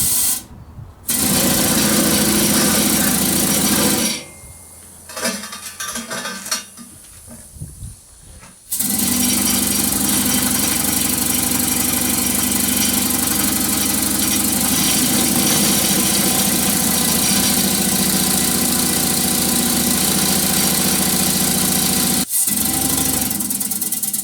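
A Harbor Freight air-powered paint shaker runs with a loud, steady mechanical buzz and rattle, pausing briefly after a few seconds before starting up again and continuing without talk.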